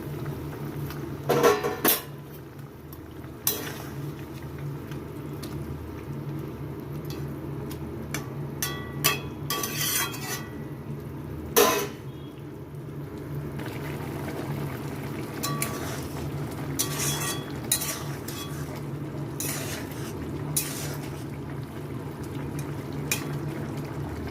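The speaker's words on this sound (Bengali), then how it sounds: "এখানে খুব ভালোভাবে ঝোলটা ফুটে গেছে" Curry gravy for tengra fish with potatoes bubbles steadily in a pan as a low, continuous simmering hiss, broken by occasional clinks and scrapes of a utensil against the pan.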